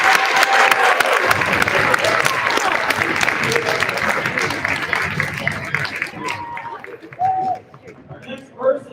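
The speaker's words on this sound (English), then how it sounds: "Please give her a round of applause." Sustained applause from a crowd, steady clapping filling the room for several seconds before thinning out near the end.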